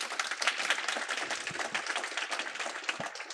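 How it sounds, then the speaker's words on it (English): An audience at a TribFest 2023 political session for a U.S. Senate candidate claps together in a dense, fairly distant round of applause that holds steady for a few seconds. "I want you all to clap"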